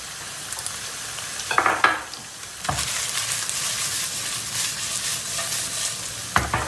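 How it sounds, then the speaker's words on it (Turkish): Chopped onions sautéing in oil in a frying pan alongside browning chicken pieces, a steady close sizzle with stirring scrapes and a couple of louder bursts as the food is turned. "Soğanla beraber soteleme işlemine devam edeceğiz."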